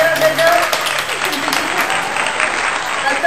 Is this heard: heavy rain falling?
no